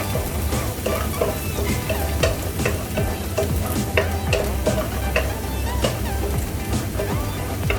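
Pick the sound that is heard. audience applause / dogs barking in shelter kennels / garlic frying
garlic frying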